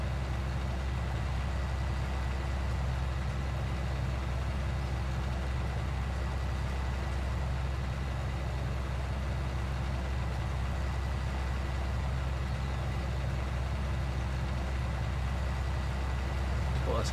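A farm tractor in Farming Simulator 19 hauls a Horsch Pronto 9DC seed drill with pre-emergence markers, its engine droning as a steady, loud, low hum with no break throughout.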